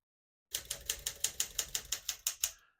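Crisp, evenly paced keystrokes strike on a 1964 Smith-Corona Sterling portable typewriter, about a dozen sharp clacks in quick succession, close and clear against silence.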